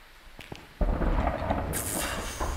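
Thunder in a horror video game comes as a sudden deep rumble that swells and rolls on for a couple of seconds, with a brighter crackling burst partway through, moderately loud and not under speech.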